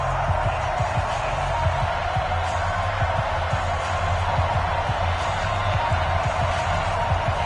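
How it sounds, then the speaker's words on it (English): Steady roar of a stadium crowd at FedEx Field for an NFL game between the Rams and the Redskins in a football video game, a broad continuous wash of crowd noise with faint thumps, no talk. "This crowd is ready as their guys get set to match up"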